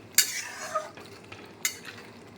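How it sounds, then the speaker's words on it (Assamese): A spoon stirs and whisks sour yogurt in a kadai for brinjal masala curry, with a couple of sharp scraping clinks against the pan and softer rubbing in between, close and fairly quiet. "ভালকৈ ফেটি ল'ব দৈটো"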